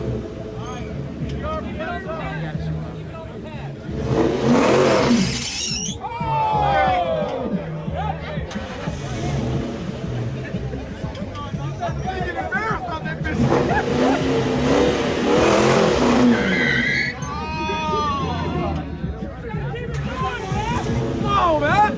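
A Mustang engine revs repeatedly during burnouts at a car show, loud surging bursts rising and falling in waves, with crowd chatter and voices heard throughout.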